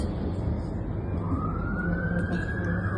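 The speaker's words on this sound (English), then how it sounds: "Sirens." An emergency siren wails in the distance, rising in pitch over a constant background rumble of traffic.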